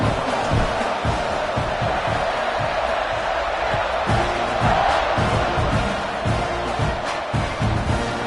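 Dense stadium crowd at a Clemson at Texas A&M college football game roars steadily around kickoff, a loud continuous wash of cheering and shouting with scattered thuds, with no break from start to finish.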